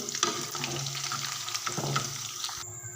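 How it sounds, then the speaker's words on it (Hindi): Chicken pakora pieces frying in hot oil give a steady, close sizzle with faint crackling bubbles throughout, the sound dropping away abruptly near the end. "इधर हमारे चिकन पकोड़ा को फ्राई होते हुए तकरीबन 7 से 8 मिनट हो चुके हैं"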